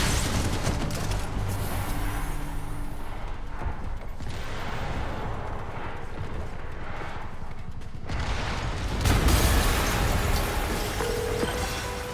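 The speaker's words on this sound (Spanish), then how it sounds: "una explosión acaba de..." Dense, roaring combat noise with rumbling blasts and a heavier boom near the end from a bomb explosion in the Spider-Man video game, continuous and loud throughout.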